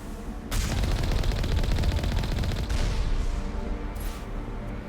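A turret fires in Mass Effect 1, a sustained rapid burst of loud, close automatic shots lasting a couple of seconds, then a trailing second volley that fades into a lingering rumble.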